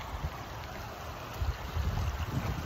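Water runs steadily through the creek of a scale model RC trail layout, a close, continuous rushing and gurgling flow with some slightly louder swells near the end.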